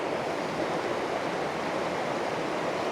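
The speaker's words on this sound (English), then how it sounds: "the stream to the right, if I was to walk up that stream, that would take me to the base of the waterfall" A stream flowing near the base of a waterfall among old stones and trees gives a steady, loud broadband rush of water that holds even and unbroken throughout, with no voices.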